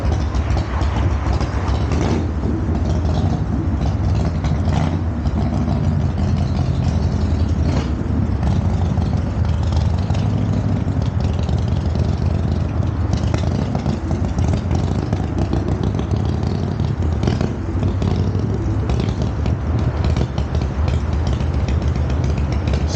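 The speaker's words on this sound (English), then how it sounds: "That's the guy with his loud ass bike." Harley-Davidson 2015 Street Glide motorcycle, loud and nearby, giving a steady rumbling drone that lasts throughout with faint clicks and rattles over the top, no talk.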